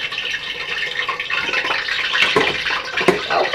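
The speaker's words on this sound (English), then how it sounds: "Y'all hear that grease?" Grease sizzles in a pan while homemade crispy chicken fries, a close, steady hiss with scattered crackles and pops.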